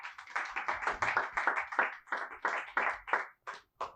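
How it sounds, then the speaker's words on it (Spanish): A church congregation claps and applauds together, steady rhythmic hand claps about four per second, moderately loud and close, tapering into sparser claps at the end with no voices on top. "Dale un fuerte aplauso al Señor."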